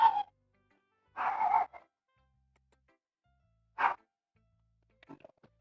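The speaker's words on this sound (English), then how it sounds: "I can't do anything about the dog in the background." A dog barks in the background: three separate barks, one drawn out, followed by a faint whimper, with quiet gaps between them.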